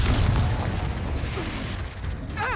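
Confringo fire-blast spell explosion in Hogwarts Legacy, a loud booming blast that rolls into a dense crackling roar and then fades, with a short magical whoosh at the end.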